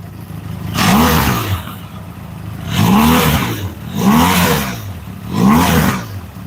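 A Benelli TRK motorcycle sits in neutral while its exhaust is revved four times, each loud, close roar swelling and falling away to a low idle between bursts.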